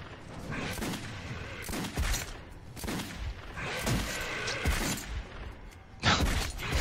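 Gunfire rattles through the video game Metro 2033 in irregular loud bursts, sharp blasts separated by short pauses, with one heavy shot near the end.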